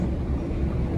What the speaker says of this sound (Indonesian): kereta api Sangkuriang, udah lumayan ngebut ya